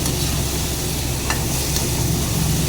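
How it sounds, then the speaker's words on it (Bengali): Pointed gourd being stirred and fried in a cooked-down spice paste for a vegetarian Bengali potol posto: a steady, close sizzle fills the whole stretch, with a couple of faint utensil scrapes and no talking. "এবার পটলগুলোকে দিয়ে আবারও মশলাটার সাথে ভালো করে কষিয়ে নেব,"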